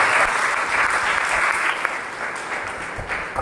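A crowd applauds a priest during a church visit, continuous dense clapping from many people, steady and fairly loud throughout the short stretch.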